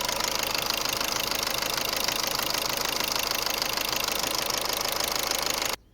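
A car engine idling in limp mode, with a suspected turbo or exhaust clamp leak, makes a steady, loud, dense mechanical running noise with a rough knocking texture. It holds constant for almost six seconds, then cuts off abruptly.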